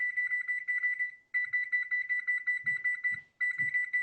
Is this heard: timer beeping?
yes